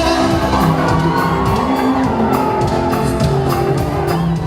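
A concert crowd cheers, shouts and whoops steadily and loudly throughout, a dense wash of voices with no single speaker standing out.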